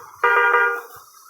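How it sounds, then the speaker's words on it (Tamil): A truck horn in the driving game Truck Simulator Indonesia, one loud sustained blast lasting about half a second before fading. "இன்னொரு ஹார்ன் இருக்குது கைஸ்."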